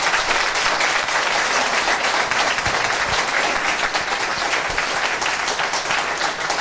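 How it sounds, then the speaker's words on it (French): A live show crowd claps continuously, dense and even applause filling the room at close range without letup, with no talking over it. "Ça s'applaudit."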